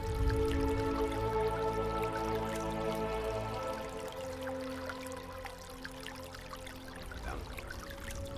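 Flowing creek water from a space strategy video game, a steady, continuous trickling and pouring layered over sustained musical tones, fairly quiet and unbroken throughout.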